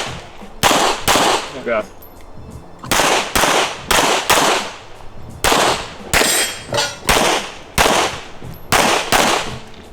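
Pistol shots ring out at a practical shooting match in sharp, loud bursts, many rapid pairs spread over the course, close to the listener and mixed with clanging steel hits, while a brief spoken word comes through.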